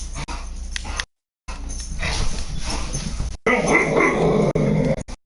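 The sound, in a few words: dog barking and growling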